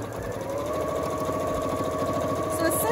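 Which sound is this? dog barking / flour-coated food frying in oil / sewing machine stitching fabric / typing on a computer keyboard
sewing machine stitching fabric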